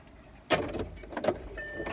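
Keys jangle in a short burst of metallic clinks, loudest in two quick clusters, with a car interior hum underneath.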